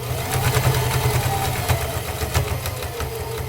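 A sewing machine runs steadily, stitching a pocket through a double layer of stiff fabric, its motor humming close up with a continuous mechanical drone and no talk.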